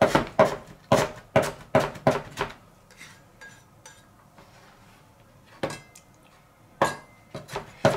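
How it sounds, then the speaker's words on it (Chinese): A kitchen knife cuts fresh ginger slices into thin strips on a cutting board, with fast rhythmic chops striking the board close up, a pause of quieter scraping, then more chopping toward the end. "改刀切丝。"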